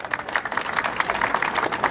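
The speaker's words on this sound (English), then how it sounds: "So give them all a round of applause." A rally crowd at a gathering against anti-Asian hate breaks into brief applause, a steady patter of many hands clapping at moderate distance without any clear voices on top.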